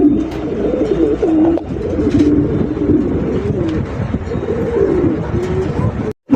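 Black Lakkha fancy pigeons coo repeatedly in low, rolling calls, close and loud, with a few faint clicks and background noise. The sound ends with a sudden cut.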